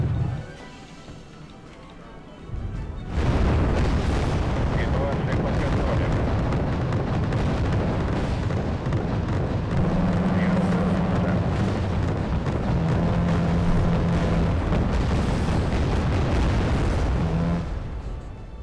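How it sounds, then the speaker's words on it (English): Naval artillery ships firing in the Wargame Red Dragon video game: after a quiet opening, heavy booming blasts and rumbling explosions layer into a dense, loud, continuous barrage that lasts to the end. "So these artillery ships are just screening me pretty much at this point. They do some damage."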